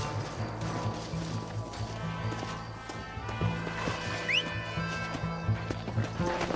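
Horse hooves clip-clop at a gallop in the Red Dead Redemption video game, steady and fairly close over a dense bed of game music and ambience, with an occasional whinny.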